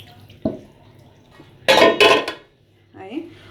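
Dishes, pots and pans being washed in a kitchen sink: a sharp clink, then loud clattering and scraping of dishware with running water, followed by a softer rattle.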